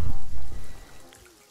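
Rain falling in the Sea of Thieves pirate game, a steady broadband hiss that starts loud and thins out over a second and a half.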